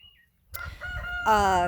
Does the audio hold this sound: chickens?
yes